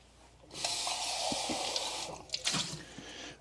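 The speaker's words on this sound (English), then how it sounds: "Let's rinse this off." Running water from a tap splashes as an item is rinsed off while making tequila, a short, fairly quiet gush that starts abruptly, holds steady, then breaks into drips and small splashes.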